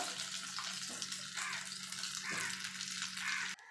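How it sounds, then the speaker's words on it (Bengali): Egg chops fry in a small amount of oil. There is a soft continuous bubbling sizzle with a few faint clinks, close but quiet, and it cuts off abruptly at the end. "এবার বাকিগুলো আমি এইভাবে ভেজে নেব।"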